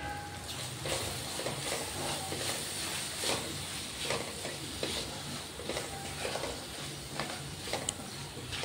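Cauliflower curry gets stirred with salt in a pan: a spoon scrapes and clinks steadily against the pan over soft, faint sizzling, in a quiet and even rhythm.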